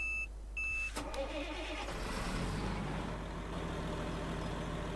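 A combine harvester in Farming Simulator 17 starts up: a couple of short electronic beeps, then the engine catches about a second in and settles into a loud, steady diesel rumble that continues to the end.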